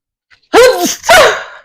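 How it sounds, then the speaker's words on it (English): A single loud, close sneeze with a quick sharp intake and a two-part explosive release, alone and not under any talk. "Oh my gosh, I wanna sneeze."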